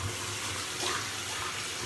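A bathroom tap runs steadily while soap is rinsed out of a shaving brush, a continuous broadband splashing hiss close by with no talking.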